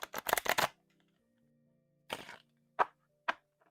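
Playing cards are shuffled in a quick riffling burst, followed by a pause and a few separate soft slaps and taps, close by.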